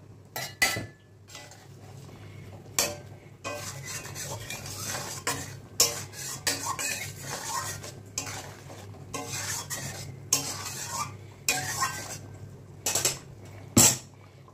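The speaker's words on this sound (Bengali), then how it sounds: "এর মধ্যে আমি মাছ অ্যাড করে দেবো" Fried fish going into a boiling fish curry gravy in a pot, with bubbling and sizzling under repeated clinks and scrapes of a utensil against the pan, close and fairly soft, no talking.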